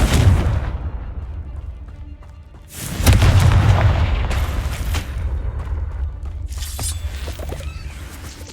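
Two heavy booming blasts from the Confringo spell in Hogwarts Legacy, each a loud deep explosion followed by a rumbling fade and crackling debris, with smaller pops later.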